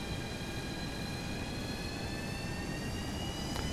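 The jet engines of a FlyJSim 732 Twinjet spool up for takeoff in a flight simulator, giving a steady, dense roar with a high whine running throughout.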